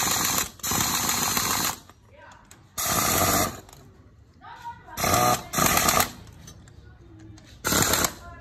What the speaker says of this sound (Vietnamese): Chúng ta dùng súng bắn ốc nhỏ này, chúng ta để số nhỏ thôi nhá.